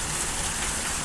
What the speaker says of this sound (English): You can see the tempo of the rain is picking up.